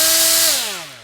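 A Milwaukee die grinder spins at high speed, around 20,000 RPM, giving a loud, steady high-pitched whine that starts to wind down and drop in pitch over about a second.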